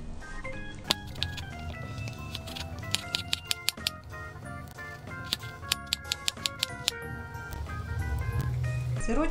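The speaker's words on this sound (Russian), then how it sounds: "И небольшими кубиками картошку." Quick knife chops against a board while potatoes are diced into cubes, over a continuous musical background.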